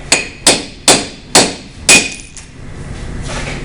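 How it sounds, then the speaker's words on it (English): A hammer drives a cold chisel through a nail in a shop classroom, five loud, ringing metallic strikes at a steady pace, then a brief clink and quiet room noise. "It's the cold chisel powering through that."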